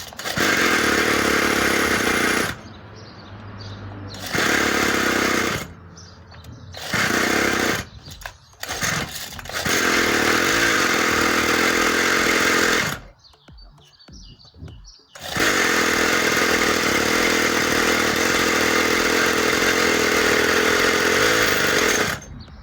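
An Orion 49cc mini dirt bike engine fires up and runs with a loud buzzing two-stroke rasp, cutting out and restarting several times in bursts before settling into a steady drone.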